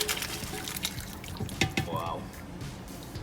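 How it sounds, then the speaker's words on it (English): Beef stock for pulao pours through a kitchen strainer, a short liquid splash and trickle with drips, with someone speaking briefly in the background. "So I'm gonna run the stock through the strainer."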